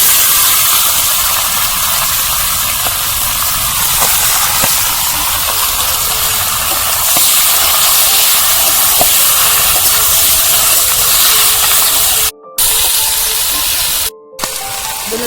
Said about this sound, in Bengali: এবার এই মুরগির ছালগুলো দিয়ে দেবো